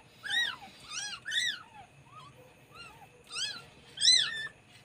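A cat in labour gives repeated plaintive meows, close and fairly loud, coming in an irregular series of about six drawn-out cries with short pauses between them.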